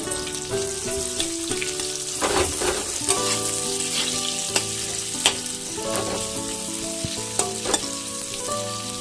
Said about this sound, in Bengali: কুচনো পেঁয়াজগুলো এবার ভাজা ভাজা করে নেবো